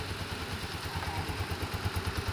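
A motorcycle engine idling nearby, a steady low throbbing rumble with a fast regular pulse and some mechanical clatter, continuous throughout.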